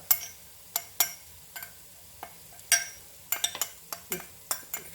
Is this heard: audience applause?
no